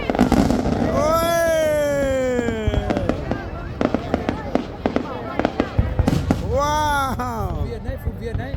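New Year 2024 fireworks bursting in a series of sharp pops and cracks, loud and fairly close, under steady crowd chatter and excited voices.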